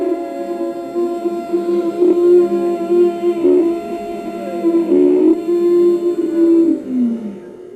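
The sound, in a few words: Ujjayi breathing through constricted throat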